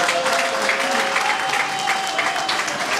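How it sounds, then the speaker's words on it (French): Dense, steady crowd applause at a UDPS political gathering, loud and continuous with no pauses. "Vous devez vous applaudir."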